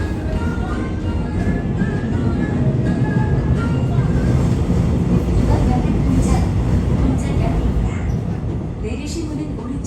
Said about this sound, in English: And then we took the subway back